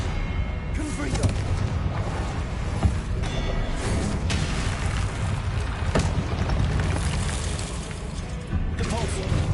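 Fiery Confringo blast spells from the Hogwarts Legacy video game, repeated booming explosions layered over constant loud combat noise, with a voice shouting spell names throughout.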